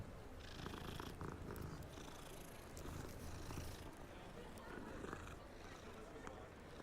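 A cat purrs inside the video game Hogwarts Legacy, a steady, continuous low rumble running under busy game sounds and music throughout, with speech present.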